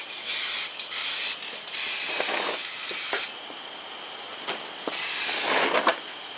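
Never Wet waterproof coating sprays onto boots in several short hissing bursts of varied length with brief pauses between, close and loud.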